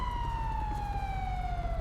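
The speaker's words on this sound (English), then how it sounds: "kill the sirens on whoever's got sirens real quick" Police car sirens in Grand Theft Auto V wail as a steady, slowly falling electronic tone with harmonics, moderately loud over a low engine rumble, with no talk.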